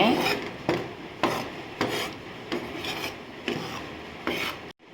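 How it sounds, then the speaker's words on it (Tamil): Rice flour dry-roasted in a pan and stirred, giving a rhythmic raspy scraping in steady strokes roughly every half second, close and fairly loud, with no talking. "ஒரு கப் அரிசி மாவு எடுத்து வச்சுருந்தோம்ல அதை கொஞ்சமாக வறுத்து எடுத்துக்கலாம்"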